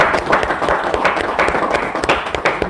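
An audience claps at a cookware sales demonstration, a steady patter of hands at moderate level throughout, with no talking over it.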